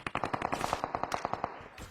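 Rapid bursts of automatic gunfire from a red gun in a battle royale video game, a dense string of sharp close shots with no talking.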